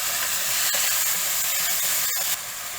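Chopped tomatoes hit a hot pan for instant sambar, giving a steady loud hiss and sizzle with a couple of sharp crackles before the sizzle eases slightly.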